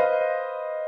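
A piano imitates a man's wolf whistle at a cute girl, a single sustained chord ringing out and slowly decaying, close and alone.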